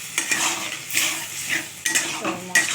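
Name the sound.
stirring and frying potatoes in yogurt spice paste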